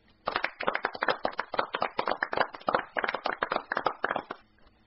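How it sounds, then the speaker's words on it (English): Applause sound effect: a burst of crisp, closely spaced claps from a small group, bright and clean, rising suddenly and fading out after about four seconds with no voices. "run it and watch the glory and get ready for another applause"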